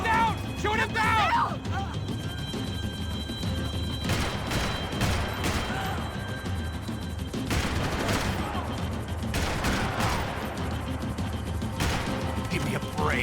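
Gunfire in the video game Max Payne 3, bursts of rapid shots and crashing impacts over a constant loud roar, with shouting voices mixed in.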